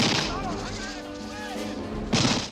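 Tommy gun gunfire from a film gunfight between FBI agents, gangsters and Nazi goons in The Rocketeer, dense loud bursts at the start and again near the end over a busy mixed soundtrack.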